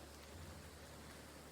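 Rain falling in the video game Graveyard Keeper, a faint, steady hiss of rainfall with a low hum beneath and no talking.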